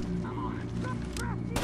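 Enemy gunfire in the tactical shooter Rainbow Six: Vegas 2, loud sharp shots cracking repeatedly over a steady low game hum, with two heavier bursts near the end.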